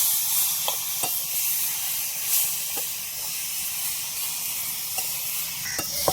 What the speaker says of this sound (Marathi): टमाट्यातलं मस्त कच्चेपणा जाईपर्यंत भाजून घेऊ.